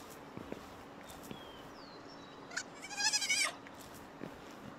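A sheep creature in the video game Palworld lets out a short wavering bleat, faint over quiet background sound with a few soft taps around it.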